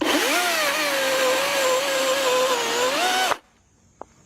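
A close electric chainsaw runs at a high, steady whine for about three seconds, then cuts off abruptly, leaving near silence with one faint knock.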